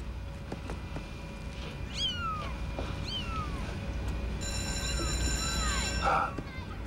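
Several kittens meow in short, rising and falling cries in a television drama scene, fairly close and clear over a low background hum.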